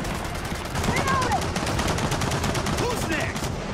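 Dense, continuous automatic gunfire from the video game Gears of War 4, rapid bursts running unbroken through the whole stretch at a loud, steady level with a few faint whistling effects above.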